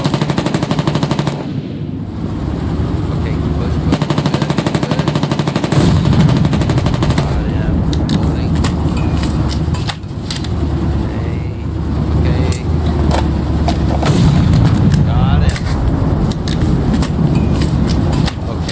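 Rapid automatic gunfire in the war video game Foxhole, loud bursts of machine-gun fire crackling almost continuously over rumbling engine-like background noise, with scattered single shots layered in.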